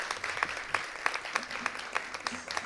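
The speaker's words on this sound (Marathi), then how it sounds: "श्रावणीचं पुन्हा एकदा टाळ्या वाजवून आपण कौतुक करूयात." An audience applauds a dancer at a Ram Navami festival performance, with brisk, steady clapping from a moderate crowd lasting throughout.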